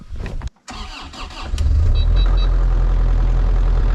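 A car engine starting up and settling into a steady, loud idle or drive on a snowy first outing, preceded by brief clunks and a short gap, the engine rumble continuing alone to the end.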